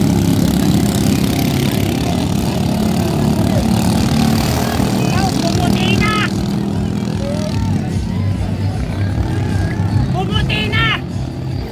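Boat engine droning steadily throughout a boat race at sea, a continuous loud motor rumble under excited voices of spectators talking and calling out over it.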